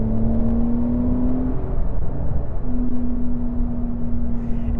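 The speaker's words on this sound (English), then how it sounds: "This has the dynamic exhaust system that Porsche allows you to option onto their vehicles" Engine of a Porsche Carrera S with the optional dynamic exhaust system: a steady, droning exhaust tone that breaks briefly and then returns at an even pitch, heard alone without speech.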